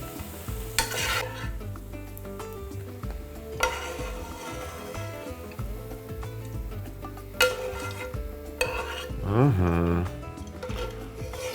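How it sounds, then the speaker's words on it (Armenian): Fried mushrooms are scooped out of a hot frying pan with the oil left behind, bringing close utensil scrapes and clinks over a continuous sizzle, with a brief sputtering burst near the end. "Սունկը այնպես ենք հանում տապակից, որ յուղը մնա տապակի մեջ։"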